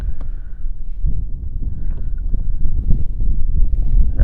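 Wind buffeting a microphone from a kayak on a rainy day of bream fishing, loud low rumbling gusts that build and persist throughout, close and unsteady.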